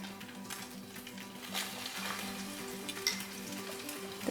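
Bread slices dipped in sweetened egg fry for French toast over a medium flame, giving a steady, soft, close sizzle with faint crackles and no talking.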